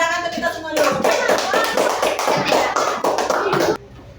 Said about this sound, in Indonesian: Kasih tepuk tangan ke kita semua dulu.